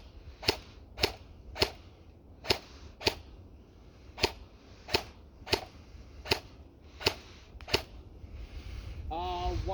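Rifle shots fired at targets, about twelve sharp loud cracks in a steady rhythm roughly every half second, with a rising hum and a brief voice at the end.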